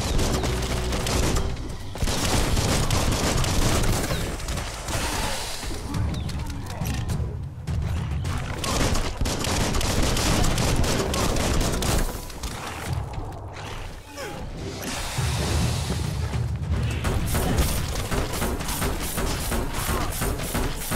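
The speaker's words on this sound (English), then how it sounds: "Bullets everywhere." Gunfire rattles in the video game Biomutant, dense bursts of shots and thuds mixed with booms and game effects, loud and nearly continuous throughout.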